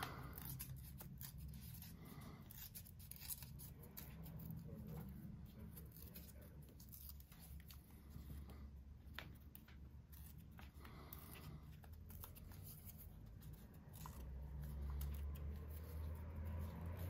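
Scissors trim paper for artist trading card wallets, giving soft, close snips and rustling paper in an irregular patter at low volume, with no talking.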